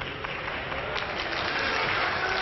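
Spectators applaud at a France versus Italy match in the 2012 world pétanque championship, with steady, moderately distant clapping that holds evenly throughout.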